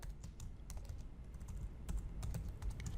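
Rapid, steady typing on a computer keyboard, close and clear, with irregular clusters of key clicks over about three seconds and no voice.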